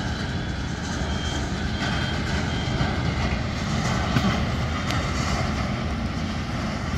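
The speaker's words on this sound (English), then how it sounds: "So this is Boeing 777 FedEx." A FedEx Boeing 777 at Narita International Airport produces a steady, broad engine roar with a faint whine on top, loud and constant, heard without any talking.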